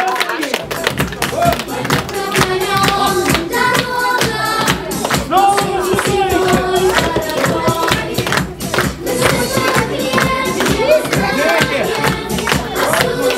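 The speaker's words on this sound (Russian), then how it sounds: "Принимай, аплодисменты." Audience clapping at a New Year party as a gift is handed over, mixed with loud music, cheering and crowd noise, with people talking over it throughout.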